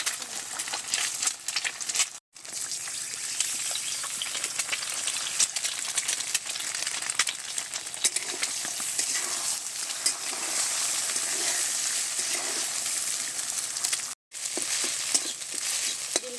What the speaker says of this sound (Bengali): ডিম দুটো ভেজে তুলে নেব।